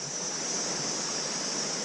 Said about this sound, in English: Little rapids and stuff like that.